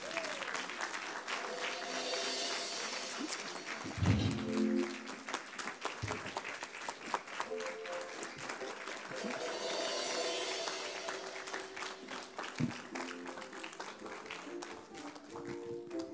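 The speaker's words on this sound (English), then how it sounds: "Keep on clapping, please." Church congregation applauding steadily at a service as a pastor is welcomed to preach, a sustained wash of clapping with a few louder bursts and faint voices mixed in.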